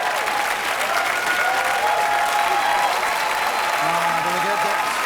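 Studio audience at a comedy improv show breaking into sustained, loud applause that holds steady throughout, with someone speaking over the clapping.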